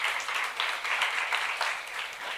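A church youth worship congregation claps together, a sustained, even burst of many hands applauding in a hall, heard alone without talk, with a sharp sound at the very end.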